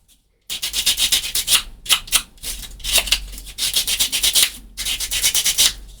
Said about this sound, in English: Now let me just dress the edges of this. Get a little sand here.